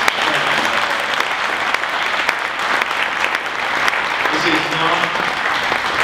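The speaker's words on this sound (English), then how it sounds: "let's first off give these candidates a great big round of applause" Sustained audience applause for candidates at a debate, a dense steady wash of many hands clapping, with some background voices mixed in throughout.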